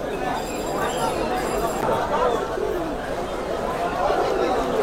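Pigeons coo and birds chatter at Galiff Street pet market in Kolkata, a busy crowded setting where people talk over the steady bird calls throughout.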